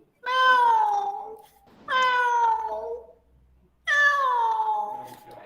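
A human voice imitates a peacock's call three times, each a loud, high, drawn-out wailing cry that falls in pitch, separated by short pauses.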